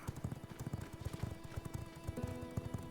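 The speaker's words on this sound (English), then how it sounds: "I see a horse, I hear the bell," Horse hooves clip-clop steadily in the video game V Rising, a close, rhythmic run of quick hoofbeats with a brief tonal chime near the end and no talking.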